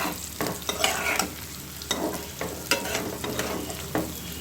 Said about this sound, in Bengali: এটা ফ্রাই করতে করতে হালকা ফ্রাই করলেই মোটামুটি হয়ে যাবে